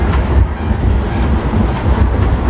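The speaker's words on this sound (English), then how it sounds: "Little Go Train live action." GO Train commuter train riding toward Toronto, a steady loud low rumble of the moving car with faint rail clatter and wind noise throughout, no talking.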